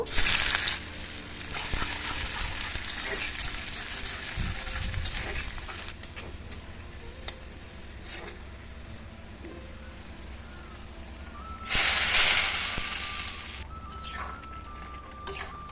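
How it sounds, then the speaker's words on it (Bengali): Dried chilies, onion and garlic fry in hot oil to temper dal, giving a continuous close sizzle with a louder hissing surge partway through and occasional stirring clatter. "পেঁয়াজ রসুন শুকনো মরিচ ভেজে ডালটা বাগার দিয়ে দিলাম"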